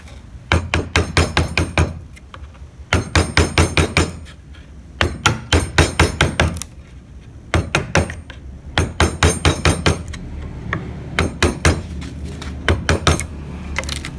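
Hammer striking a gouge chisel while carving a barong motif, with rapid groups of sharp, ringing taps repeated in bursts and short pauses between them, close and clear.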